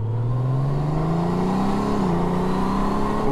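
A 2022 Honda Gold Wing motorcycle in sport mode accelerates with a loud, steady engine drone rising in pitch, briefly dipping at a gear change before climbing again, with wind noise over it.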